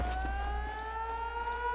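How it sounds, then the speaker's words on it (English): In Battlefield 4, an air-raid siren wails with steady rising tones, moderately loud over low background rumble from the game. "It sounds so cool, too, the sirens."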